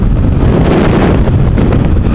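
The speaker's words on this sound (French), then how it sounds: "il y a un petit peu de vent" Wind roars hard across the microphone of a Suzuki V-Strom 650 motorcycle on a winter ride, a loud, constant rush that buries everything else.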